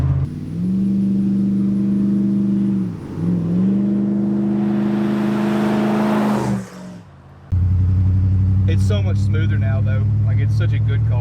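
An old V8 Buick LeSabre cruises at 60 mph, a steady engine drone and road rumble filling the cabin, dipping briefly and cutting off near the end before people talk inside the car.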